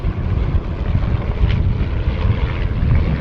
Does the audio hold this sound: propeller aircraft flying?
yes